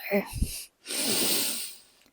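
Someone sniffles from the cold, one sharp nasal snort followed by a longer, close, breathy inhale through the nose, loud and near with no talk over it.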